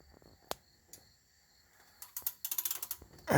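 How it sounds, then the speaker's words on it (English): A ratchet turning the engine of an 1987 Mercury Cougar to bring the rotor button around, a few isolated clicks followed by a quick rising run of close ratcheting clicks, quiet garage setting with no talking. "Let's see if I can get my ratchet"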